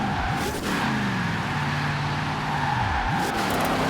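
A GMC Typhoon in Forza Horizon 4 doing donuts, with a steady engine drone and tyre noise as pitch bends up and down through the slide, constant and fairly close.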